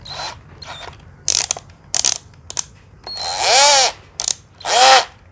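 A used Japanese cordless drill is run in short bursts in drill mode, each one whirring up and winding down. Some runs are quick taps and others are longer revs with audible clutch ratcheting, close and loud.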